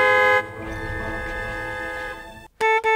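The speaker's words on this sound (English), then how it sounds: "she honks the horn" A car horn blares in a long steady honk, then stops and gives two short toots, loud and close.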